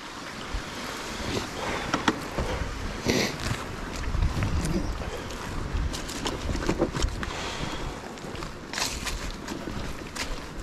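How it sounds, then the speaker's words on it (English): Water rushing beside a wooded trail during an autumn mountain bike ride, a steady broadband wash with gusts of wind noise and occasional rattles, continuous and fairly close with no talking. "Now, I just love the sound of the water, too."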